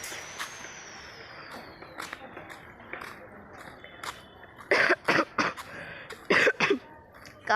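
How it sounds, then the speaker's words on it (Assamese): Several sharp coughs in cold weather, first scattered then bunched in two quick bursts near the end, heard close over faint outdoor street noise. "কাহ হৈছে, ঠাণ্ডা বতৰ ন"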